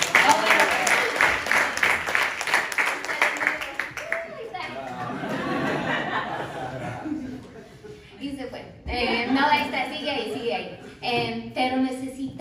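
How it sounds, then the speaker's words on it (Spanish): Poetry slam audience in Chicago breaks into brisk applause for several seconds, then fades into chatter and laughter as a host's voice speaks over the room. "un aplauso para Comic"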